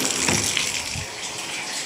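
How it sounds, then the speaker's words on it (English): Water runs steadily from a home shower, a continuous close hiss with no pauses and no voices. "now I'm going to take a shower"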